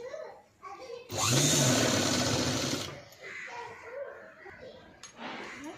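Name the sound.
sewing machine stitching a padded blouse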